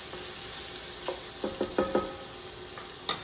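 Ground pork and ground beef are tipped into a pan and stirred, with a few short scraping, clattering strokes over a steady faint sizzle, no talking.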